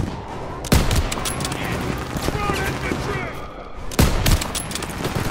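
Dense, continuous gunfire rattles through a World War II battlefield in Call of Duty WWII, with two loud, sharp blasts standing out above the sustained volleys of rifle and machine-gun fire.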